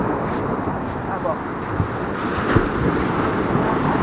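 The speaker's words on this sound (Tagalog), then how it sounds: "Medyo may alon ngayon mga welder" Choppy sea waves wash and slap around a small boat carrying welders, heard as a rough, steady surf noise mixed with gusty wind buffeting the microphone, with a few sharper splashes.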